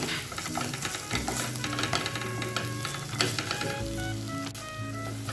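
Broccoli bharta with coriander and chaat masala being stirred in a pan: repeated scraping and clinking of a spoon against the pan over a soft sizzle, fairly quiet, no talking.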